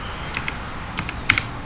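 A few crisp computer keyboard keystrokes click in a short irregular run, close and clear over a quiet hum, with one sharper tap near the end.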